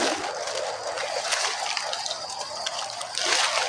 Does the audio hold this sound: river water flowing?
yes